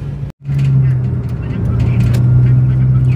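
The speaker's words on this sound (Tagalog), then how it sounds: "Traffic." Road traffic rumbles past a car on a birthday road trip to La Union, a low steady engine hum that swells and fades, with a short silent gap near the start.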